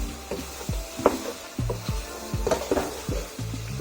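Pork zingaro frying in a pan while being stirred, with crackling sizzle under repeated scraping and clacking strokes of a utensil against the pan at an irregular rhythm, close and moderately loud.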